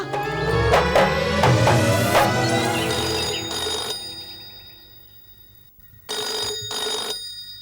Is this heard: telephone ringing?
yes